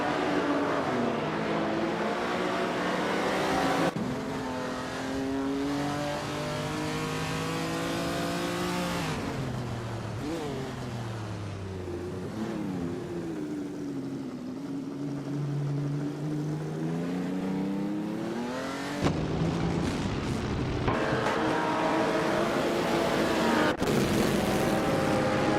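Race cars lapping the twisty, hilly Sonoma track in a racing video game, engines droning and revving steadily with shifting pitch through corners and gear changes, loud and continuous with no talk.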